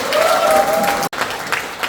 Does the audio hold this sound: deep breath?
no